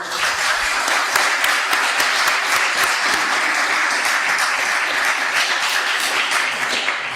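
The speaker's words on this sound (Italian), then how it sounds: "vogliamo accoglierlo con un applauso" An audience applauds steadily to welcome a guest, the politician Raffaele Lombardo, at a gathering; dense, sustained clapping from many hands fills the whole stretch without any talk over it.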